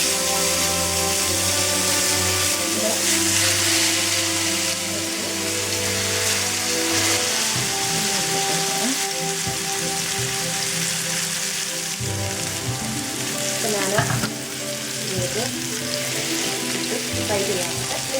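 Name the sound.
fish frying in a pan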